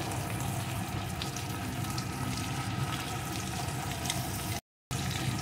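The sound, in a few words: spices, tomato and papaya sautéing in a pan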